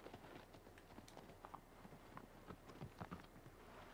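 Horse hooves clop in the Shadow of the Colossus video game, a faint irregular run of hoofbeats over a soft noisy background.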